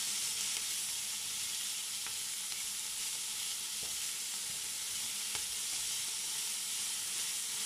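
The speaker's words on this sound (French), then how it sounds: "je la fais griller des deux côtés. La saucisse. Les oignons, eux, ils vont suer tranquillement." A sausage grills in a pan alongside onions sweating, giving a steady, close, continuous sizzle and hiss with a few faint clicks over the top.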